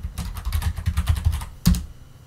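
Keys on a computer keyboard clack in a quick burst of about a dozen close taps while a Linux command is typed, ending with one firmer keystroke like Enter, then quiet.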